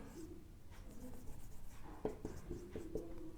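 Pen or marker writing on a board or paper during a Hindi-English trigonometry lesson on even and odd functions, with short scratchy strokes and taps in a quiet room.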